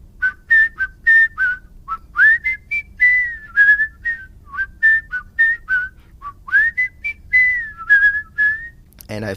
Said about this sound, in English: So these are different techniques that you can use for whistling.